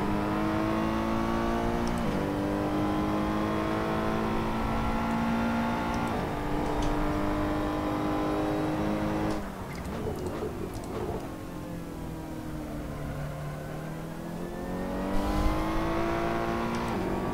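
A Ferrari 488 GT3 race car in the racing game Assetto Corsa revs hard through the gears, its loud engine note climbing and dropping with shifts, a brief rough patch mid-run, then pulling up again with no voices.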